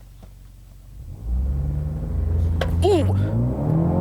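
A 2020 BMW X2 M35i launches hard with launch control, its engine surging from a low idle rumble into a loud, sustained acceleration roar heard from inside the cabin, while an occupant lets out a brief excited exclamation.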